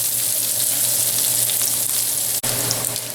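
Pancetta fries in a pan with a steady, loud, close sizzle and crackle, continuous throughout with a brief clatter near the end.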